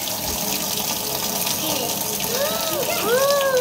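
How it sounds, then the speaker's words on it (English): Water runs steadily from a kitchen tap as hands are washed under it, a continuous close gush with a brief higher voice or squeak near the end. "Let's come over here and wash your hands."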